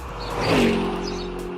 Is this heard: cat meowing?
no